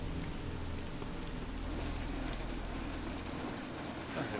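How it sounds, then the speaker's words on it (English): Steady rain falling in the video game Midnight Suns, a continuous dense patter that holds at an even level from start to finish, with no voices and no other events. "It's raining."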